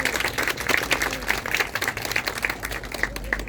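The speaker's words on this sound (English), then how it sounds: "Let's give them a round of applause." Applause for city commission members at a Santa Ana city ceremony: a sustained round of clapping from a gathered audience, fairly close and steady, with individual sharp claps standing out and faint voices mixed in.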